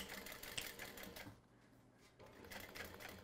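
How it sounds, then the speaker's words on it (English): A sewing machine runs a straight seam across fabric, its steady rapid needle chatter filling the clip, easing off briefly in the middle before resuming, faint and close with no talk over it. "And sew all the way across, maintaining a half inch distance."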